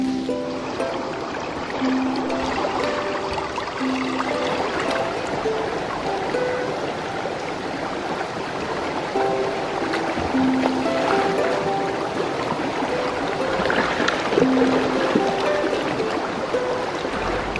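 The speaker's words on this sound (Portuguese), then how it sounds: "Temos direito a cascata e tudo." A small waterfall at a river beach in Italy pours in a continuous, even rush of falling water that holds steady and fairly loud throughout, with no voices.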